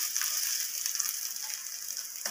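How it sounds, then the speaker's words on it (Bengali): An egg, broken into pieces with a spatula, fries in a pan for a cauliflower and egg dish, giving a steady close hiss and sizzle with faint crackles throughout, no voices. "তো ডিমটা এক পিঠ ভাজা হতে থাক"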